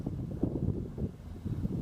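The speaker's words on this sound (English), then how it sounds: "You see a lot of waves and it's very windy." Strong wind buffets the microphone on open water while kayaking amid waves, a low continuous rumble with gusty swells, close and fairly quiet.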